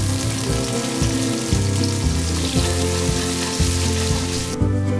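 Onions sizzle steadily in hot oil that already holds cumin seeds, a bay leaf and red chilies, a dense, close frying hiss with faint regular clicks underneath that thins out abruptly near the end. No talking.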